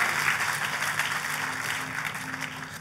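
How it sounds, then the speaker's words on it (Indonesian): Congregation clapping at a church service, a steady dense wash of hands sustained throughout at moderate level, with a faint low tonal hum underneath and no talk. "Ayo tepuk tangannya lebih meriah lagi buat Tuhan kita"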